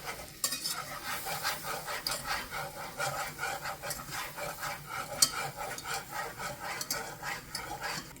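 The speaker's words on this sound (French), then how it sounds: "Là, on mélange bien avec un fouet." Flour or cornstarch mixture for a homemade lasagne sauce being whisked steadily in a pot, a continuous rhythmic scraping and swishing with no talk.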